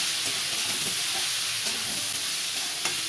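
Chopped red amaranth leaves hiss and sizzle after going into a hot pan, a dense, steady frying roar with faint scraping from stirring, close up and continuous with no voices.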